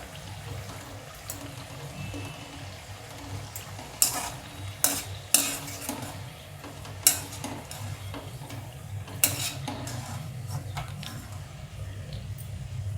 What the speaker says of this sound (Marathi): तळून घेते अशा बारीक गॅसवरच तळून घ्यायच्या